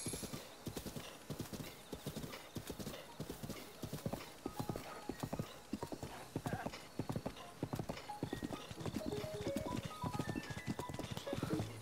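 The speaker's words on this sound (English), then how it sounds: "there's gonna be a lot of horseback riding when we're out in the field" Horse hooves gallop in The Legend of Zelda: Breath of the Wild, a steady rhythmic clip-clop pounding throughout with an occasional whinny, while a person talks over it.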